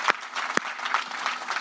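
A church congregation applauding at a Catholic adoration service, a short burst of clapping with a few sharp individual claps, moderately close.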